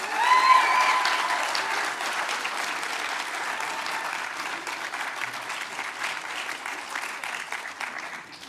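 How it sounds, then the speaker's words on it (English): A graduation ceremony audience claps and cheers in thanks, starting with a loud burst and a whoop, then settling into steady, sustained applause that slowly fades. "Please cheer and clap as loudly as you can to say thank you."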